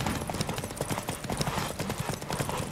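A horse gallops in a race in the video game The Witcher 3, its hooves beating a fast, rhythmic clip-clop that stays close and steady throughout.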